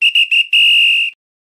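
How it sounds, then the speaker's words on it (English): Loud, close referee-style whistle: three short sharp blasts followed by one longer sustained blast, then silence. "it's time for the final whistle"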